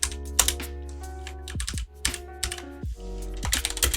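Rapid typing on a computer keyboard, with bursts of close, crisp keystrokes and short pauses between them, no voices.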